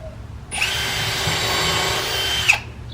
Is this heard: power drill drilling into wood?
yes